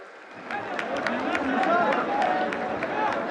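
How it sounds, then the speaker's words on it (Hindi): Crowd applause at a large public event in Srinagar, a broad, sustained clatter of many hands with sharp individual claps standing out and a murmur of voices beneath. "जोरदार तालियां हर तरफ से।"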